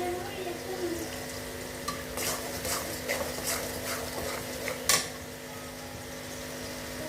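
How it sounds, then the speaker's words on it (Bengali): Chopped garlic fries in a pan with a steady soft sizzle, broken by scraping stirs and clinks, and a sharper clatter near the end; a voice talks quietly over it. "এর মধ্যে আমি রসুন কুচি হালকা দিয়ে দিলাম"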